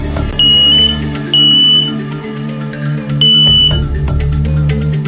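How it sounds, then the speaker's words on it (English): A smoke alarm chirps in three loud, high, piercing bursts, each lasting about half a second to a second, spaced apart over a steady background tone. "Install both audible and visual smoke alarms, where at least one should be battery operated. And test them regularly."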